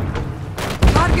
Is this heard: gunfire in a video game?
yes